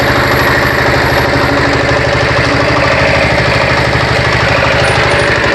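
A new engine on a firewood splitting machine runs steadily nearby, a loud, rapid, even chugging pulse with no pauses.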